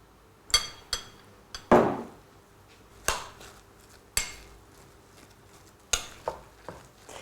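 Seasoned food and a little olive oil being mixed in a bowl, heard as a series of sharp utensil clinks and taps against the dish, spaced unevenly and close by, with no talking.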